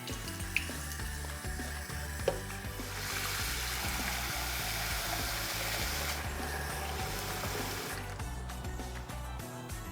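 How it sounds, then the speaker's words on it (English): Water pours onto potatoes cooking without oil, giving a steady hiss and sizzle with a few faint clinks, louder through the middle and tapering off at the end. "I'm going to put some water."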